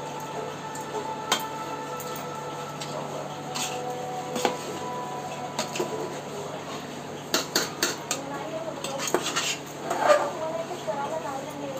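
Chicken biryani is stirred in a pot, with scattered metal spoon scrapes and clinks against the vessel that grow busier toward the end, close and fairly quiet over a faint steady background hum.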